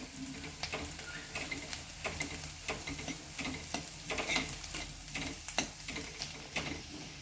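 Peanut and green chili paste sizzles softly in a pan with tomatoes, broken by repeated scrapes and clicks of a spoon stirring the mixture, faint and close.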